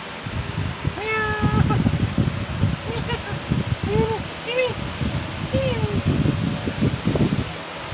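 A stray cat, apparently abandoned by its mother, gives several distinct meows spread across the stretch, heard close by among people talking and background rustle.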